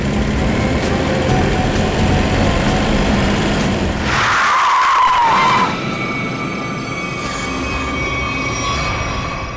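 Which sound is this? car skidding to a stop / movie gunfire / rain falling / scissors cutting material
car skidding to a stop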